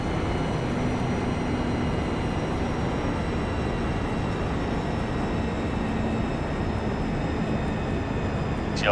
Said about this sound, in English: 747 coming in for landing.